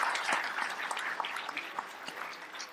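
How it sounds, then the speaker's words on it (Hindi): Clapping from an audience at a Hindu religious discourse by a Shankaracharya, a moderate scattered patter of hands spread across the moment, fairly soft and somewhat distant, with no voices over it. "ताली बजा के बताओ"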